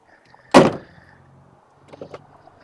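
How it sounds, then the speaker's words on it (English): A worn door on an abandoned classic Ford in Florida bangs shut with one sharp, loud thud. A fainter clunk and rattle follow a moment later. "Door a little crunchy."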